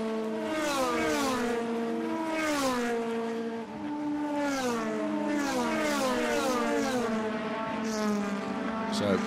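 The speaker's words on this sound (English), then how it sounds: "Love being on board and love seeing those shots and hearing the sounds of the engines." DTM race car engines at Zandvoort sound from on board, harmonics rising and falling sharply with each upshift and downshift, loud and continuous with commentary voices faintly underneath.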